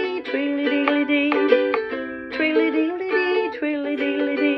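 A ukulele plays the opening riff of a song, bright plucked notes and strummed chords in a steady bouncy rhythm, close and clear with no voices.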